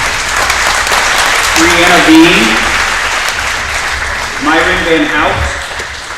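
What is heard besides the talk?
audience applause for staff service milestones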